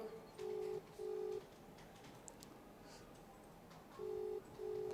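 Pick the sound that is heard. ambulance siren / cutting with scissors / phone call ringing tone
phone call ringing tone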